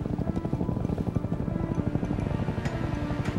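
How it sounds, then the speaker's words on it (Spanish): A helicopter flies nearby, its rotor producing a steady, loud rhythmic chopping throb that runs continuously with no talk over it. "Sí, un helicóptero."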